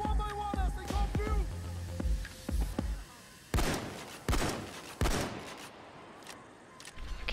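Payday 2 video game gunfire, several sharp loud shots fired in separate bursts with gaps between, following a stretch of speech and game noise at the start.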